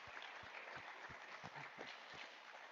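Conference audience applauding during a People & Planet session, a dense, steady wash of clapping that fills the whole stretch with no talking over it.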